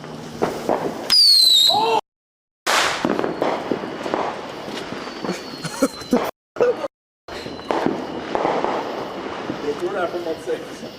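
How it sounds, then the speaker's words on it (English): Fourth of July fireworks thrown nearby burst with loud sharp cracks and pops, one with a rising whistle, mixed with excited shouting and talk, with a few abrupt silent gaps. "Somebody keeps throwing fireworks off the."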